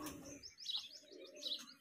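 Pigeons at a five-day pigeon-flying tournament call with soft chirps and coos, a few short bird calls repeating over a quiet outdoor background, fairly faint and with no talking.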